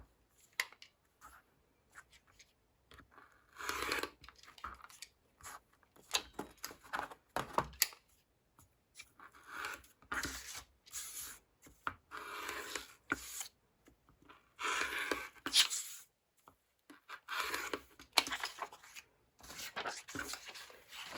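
Paper and fabric of a paper-pieced quilt block are cut out with scissors, producing quiet, close, scratchy snipping and rustling in irregular bursts separated by short silences.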